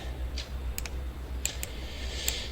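Mouse clicks from a computer used during a geometry lesson, a few sharp isolated clicks spaced irregularly over a steady low hum, close and fairly faint.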